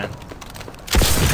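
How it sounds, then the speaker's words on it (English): A shotgun blasts in a Call of Duty Advanced Warfare multiplayer Domination match: a sudden loud, broad burst after a quieter stretch of game noise, with a dense, rough wash of sound that carries to the end. "I'm shooting it with the shotgun"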